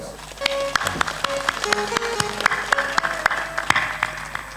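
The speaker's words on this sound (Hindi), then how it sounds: "ताली जोर से बजाओ।" An audience at a Hindi spiritual discourse claps steadily, a dense patter of many hands with sharp individual claps standing out, under a faint tonal background.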